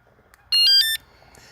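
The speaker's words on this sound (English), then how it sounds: "There's an alarm to this bike here." An e-bike's alarm being armed gives one short, bright electronic chirp lasting under half a second, loud and close, followed by quiet.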